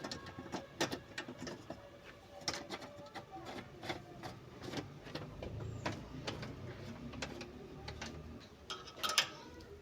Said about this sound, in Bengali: স্টারের মাধ্যমে আমি এটাকে ঘুরিয়ে ভালোভাবে টাইট দিয়ে নিচ্ছি।